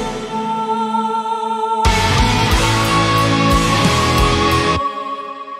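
Orchestral metal passage with choir vocals rising through a break in the guitars, dense and loud throughout, with a full band and orchestra surge in the middle before easing back to the sustained choir.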